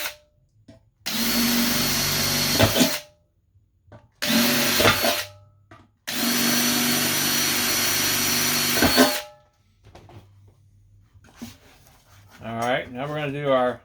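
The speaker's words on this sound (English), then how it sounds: "we're going to go ahead and drill out all the pilot holes that we need" A power drill bores pilot holes in a soft steel mini keg in three long whining bursts with short pauses, close and loud, followed by a faint rattle and a brief voice near the end.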